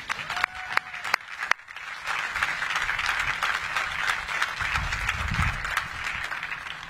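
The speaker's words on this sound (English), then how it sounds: "Can we give a round of applause for all our employees?" Applause for the Kentucky Truck Plant employees at the Ford F-Series Super Duty premiere starts with a few sharp, separate claps, then swells into full crowd clapping with low rumbling underneath.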